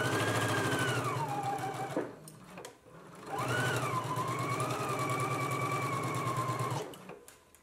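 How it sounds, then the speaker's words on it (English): Sewing machine stitching a 5/8 inch seam on a garment front, two steady close runs of a few seconds each split by a short pause, with a whirring motor tone. "we can go ahead and stitch on a 5/8 of an inch seam allowance"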